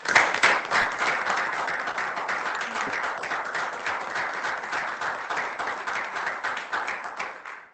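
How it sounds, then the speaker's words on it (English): A round of applause at a university system Board of Regents meeting welcoming the interim system president, steady dense clapping from a room of people, sustained and even for several seconds before tapering off at the end. "Let's all join in giving President Thompson a round of applause"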